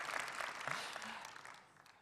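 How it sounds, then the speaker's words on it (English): Soft, distant applause from a conference audience fades out over about two seconds, faint and diffuse with no voices standing out. "Give me a little clap if you are ready for some beer."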